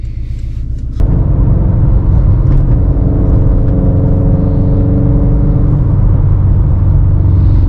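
A Subaru STI turbo car running on E85 fuel, driving with a loud, steady engine drone and rumble that starts abruptly about a second in and holds under load, with a layered harmonic whir and no talking.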